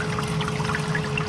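Syrup pours into a tank, swirling and splashing against the back of a pump, a steady close trickle and wash with a faint hum underneath.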